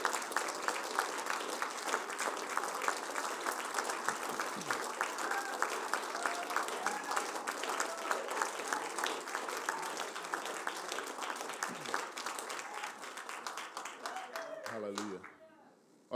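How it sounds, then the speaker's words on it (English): A church congregation claps steadily in sustained applause for a pastor receiving the Queen's Service Medal; the dense, even clapping fills the room for about fifteen seconds, then tapers off. "I knew I wouldn't have to ask you to stand and clap him."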